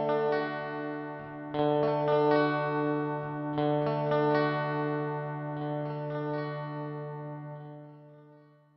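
A Hotone Binary Eko delay pedal set to about 2000 ms delay with feedback near 40, playing guitar notes. Each note is followed by repeating echoes that pile up and slowly fade, with no talking.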